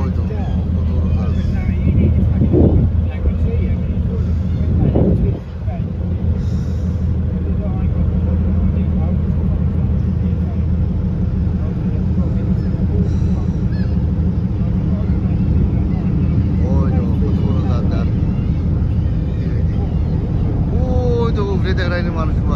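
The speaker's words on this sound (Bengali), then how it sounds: "ওই তো কত বড় জাহাজ।" A large cargo ship passes in a harbour at Lowestoft, its engine a steady low rumble throughout, with wind buffeting the microphone and people talking over it.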